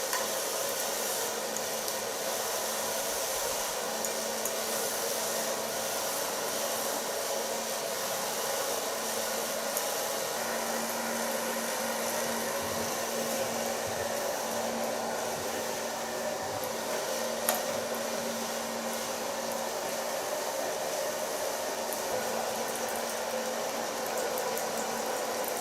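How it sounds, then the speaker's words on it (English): A hair dryer runs nonstop at close range while hair is blow-dried with a medium brush for a platinum blonde pixie cut, a loud steady airy roar with no talking. "I start blow drying with a medium brush."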